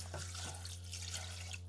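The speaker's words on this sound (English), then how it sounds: "I'm going to be adding some water," Water poured into a cooking pot holding meat for a traditional Nigerian stew, a soft steady splashing trickle over a low constant hum.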